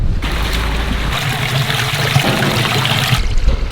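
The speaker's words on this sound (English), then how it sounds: "we're going to see a pump work" A slurry pump moving farmyard effluent on a farm gives a steady, continuous watery rushing and trickling with a low churning rumble, loud and close throughout with no talk.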